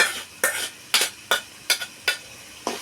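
Ground gongura paste being stirred in a pan, six or seven evenly spaced scraping strokes of a spoon, close and fairly loud, each a short rasp over a faint background hiss.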